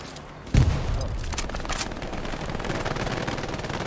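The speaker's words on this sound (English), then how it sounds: "The half track does have a 50 cal." Heavy .50 cal machine gun on a half-track firing in the World War II shooter Hell Let Loose, a sharp loud blast followed by a sustained rattling stream of gunfire with distant battle noise, at night on a foggy bridge map.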